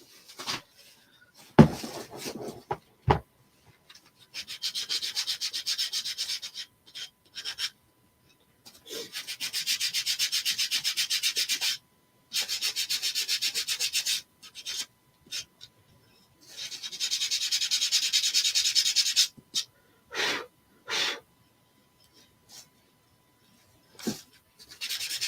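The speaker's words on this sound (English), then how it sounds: "So we'll go ahead and sand that one." A power sander works a wooden nativity stable house cutout in bursts of steady hissing abrasion, several passes of a few seconds each separated by pauses, with scattered clunks and handling knocks between.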